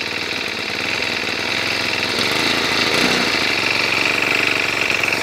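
A Mantis 7940 garden tiller engine runs steadily after starting, a continuous close buzzing drone with a slight rise in intensity midway and no talking.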